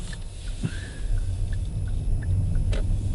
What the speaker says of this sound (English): Indicator sounds nice.